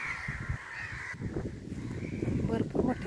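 A large flock of crows gathered to eat maize cobs caws repeatedly at middle distance, harsh calls overlapping in a busy outdoor scene while a person talks over them.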